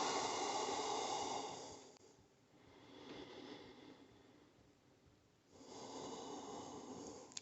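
Deep, slow yoga breaths during a sun salutation flow, drawn in and let out audibly as a long, steady airy rush, easing off briefly before a second full breath swells back in, close and alone with no talking.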